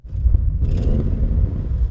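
A deep Audi RS6 V8 engine rumbling close by, briefly revved against a soft limiter with a low throaty growl that holds steady rather than climbing high.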